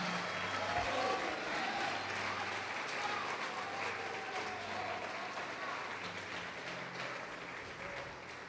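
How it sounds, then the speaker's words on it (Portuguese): Faint, steady clapping from a church congregation during worship, a continuous wash of hands with a low hum underneath and no clear talk. "Pode aplaudir e glorificar o Senhor"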